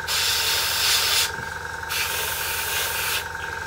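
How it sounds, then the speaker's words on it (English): A paint spray gun applies top coat to a model Flanker aircraft in two bursts of loud, close hissing spray, separated by a short pause, with a faint compressor hum beneath. "I'm going to continue with spraying the top coat on this flanker"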